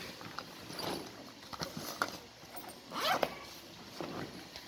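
A school bag being opened and packed, with several close zipper pulls and rustling handling sounds, fairly quiet and alone.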